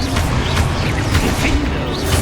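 A loud, dense burst of rumbling, crackling blast noise fills the whole moment as the Confringo fire spell explodes in Hogwarts Legacy on PS5.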